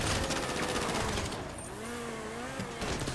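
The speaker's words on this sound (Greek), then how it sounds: "Ήταν μέσα από το θάμνο, όπως είδατε, και μας πυροβολούσε κανονικά και μας γάζωσε" Rapid automatic gunfire in the GTA Online video game, a dense continuous rattle of shots fired from a bush, loud and sustained throughout the short burst.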